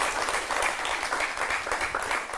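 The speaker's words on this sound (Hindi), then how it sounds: "जोरदार तालियों के साथ उनका स्वागत करें।" An audience gives a guest a warm welcome at a Hindi-language event, and the steady, full applause holds without a break.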